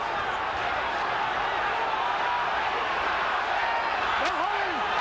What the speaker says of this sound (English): The Chavez people in attendance trying to cheer him on